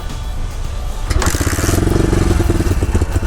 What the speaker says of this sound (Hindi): तो कुछ इस तरीके से आप किक का इस्तेमाल करके भी इस मोटरसाइकिल को स्टार्ट कर सकते हैं।